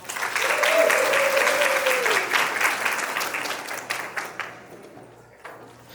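A panel audience greets panelist Gabrielle Brown with strong applause and a brief cheer near the start, then the clapping gradually thins and fades out.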